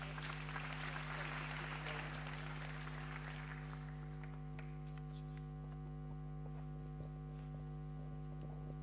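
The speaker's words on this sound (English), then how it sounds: "Let's give a clap." An audience at a youth climate assembly claps to welcome a speaker, a burst of applause that fades out over about four seconds, leaving a steady electrical hum.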